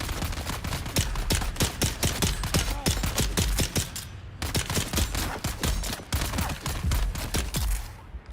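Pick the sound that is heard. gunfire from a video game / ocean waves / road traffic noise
gunfire from a video game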